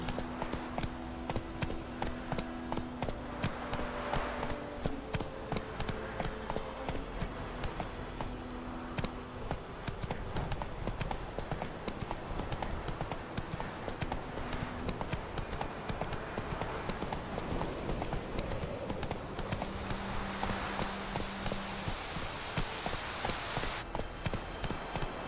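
Roach the horse gallops in The Witcher 3, hooves clip-clopping in a fast, steady rhythm for the whole stretch, fairly close and loud against game ambience.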